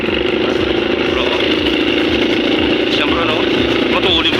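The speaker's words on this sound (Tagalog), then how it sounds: "Big bike motor." Big-bike motorcycle engine running steadily and loud throughout, a continuous rumbling drone with slight revving near the end, heard among other motorbikes at a riders' gathering.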